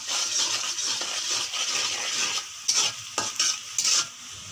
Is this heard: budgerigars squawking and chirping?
no